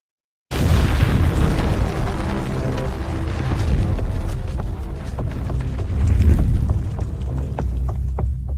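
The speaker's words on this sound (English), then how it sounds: "I got a video of me walking in slow motion away from an explosion" An explosion bursts in suddenly out of silence, then becomes a loud, sustained, deep rumbling roar scattered with sharp crackles and pops that continues for several seconds.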